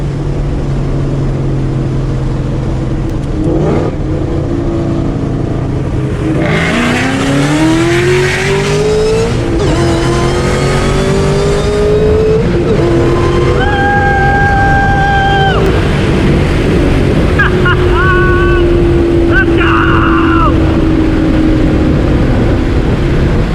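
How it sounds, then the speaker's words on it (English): A car with new drag tires and a racing clutch is revved through a full-throttle pull, the engine pitch climbing in sweeps and dropping at each downshift; the sound is loud, close and continuous, with some whine and tire noise. "I'm going to do a pull to see how this works. We'll do a little couple downshifts"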